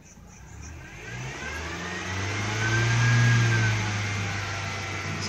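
A Honda engine is held at a steady rev above 2,000 RPM, its hum swelling gradually to a sustained higher drone and then easing slightly, close and fairly loud, with no talk.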